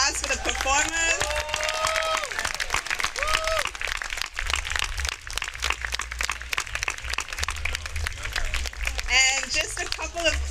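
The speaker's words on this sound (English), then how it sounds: "let's give another round of applause for the performers" An audience applauds performers at a live event, with a steady wash of clapping that continues under a speaking voice.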